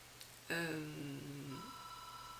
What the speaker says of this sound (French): le téléphone il sonne, c'est pas grave